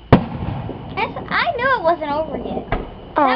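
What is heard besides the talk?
July 4th fireworks exploding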